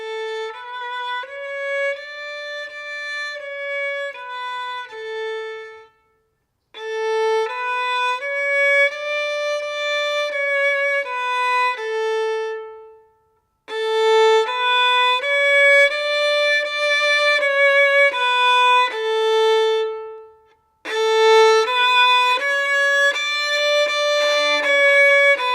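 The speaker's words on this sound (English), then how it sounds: "So you can see, as I really got very close to the bridge, the sound got glassy, a little scratchy, a little unfocused." A bowed string instrument plays four separate phrases of clear sustained notes, with short silences between them, as the bow moves from near the fingerboard toward the bridge and the tone grows brighter and scratchier.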